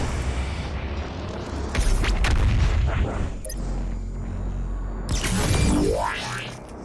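BFG 10,000 firing in Doom Eternal, heavy booming blasts with deep rumbling low end and a sweeping rising tone near the end, loud and close.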